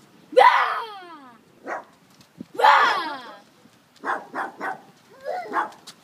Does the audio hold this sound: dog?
yes